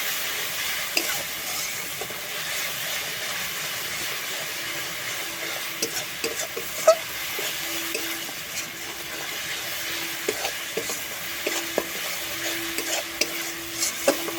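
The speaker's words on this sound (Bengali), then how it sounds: "আদাটাও মশলার সঙ্গে খুব ভালো করে ভাজা ভাজা করে নেব" Ginger paste and spices frying in a pan while being stirred, a steady close sizzle with intermittent scraping and clinks of a utensil throughout, no voices.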